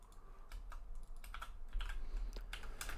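Someone types on a computer keyboard in quick, uneven bursts of close, crisp key clicks, quiet and alone with no talking.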